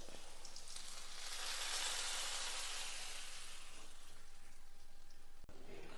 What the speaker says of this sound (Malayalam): നമ്മൾ വറുത്ത് കടുക് പൊട്ടിക്കാൻ വെച്ചിട്ടുണ്ട് ഇത് ചെറുള്ളി ഇങ്ങനെ മൂത്തുകൊണ്ടിരിക്കുന്നു